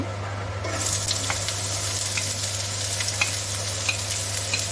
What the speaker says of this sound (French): Je vais faire revenir mes oignons.